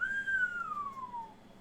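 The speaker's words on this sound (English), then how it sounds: "Egan lets out a slow whistle." A slow, descending whistle from a character in a fishing video game, heard after a big jade tooth shark catch: one long clear gliding tone that falls steadily in pitch over a quiet background, with no talking.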